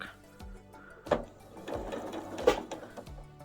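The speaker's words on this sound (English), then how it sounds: "start sewing here, back stitching at the front and back" A domestic sewing machine runs a side seam on a garment, with quick back-and-forth stitching bursts at the start and end; close, steady mechanical whirring with short pauses and no talking.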